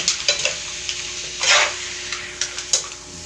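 Sautéing for mussel adobo in coconut milk, with a utensil scraping and stirring through a pan at close range over a steady sizzle, the strokes coming in irregular bursts, one longer sweep in the middle.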